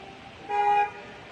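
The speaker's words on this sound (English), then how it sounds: "Who's honking?" A car horn honks once in a single sustained toot, fairly close and clear above quiet street background.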